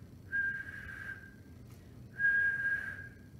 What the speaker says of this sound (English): I hear a whistling sound.